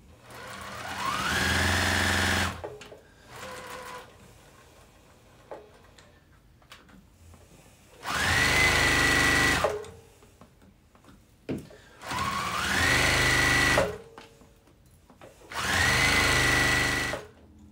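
A sewing machine runs a quarter-inch seam in four loud, close bursts of fast whirring stitching, separated by quiet pauses with small handling noises.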